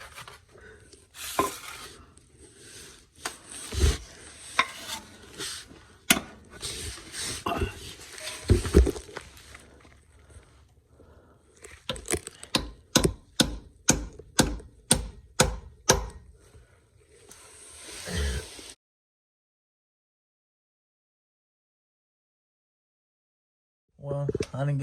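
Sharp metallic taps drive a pilot bearing into the crankshaft during a Corvette C6 clutch install, first irregular knocks, then a quick evenly spaced run of strikes, close and fairly loud, followed by silence.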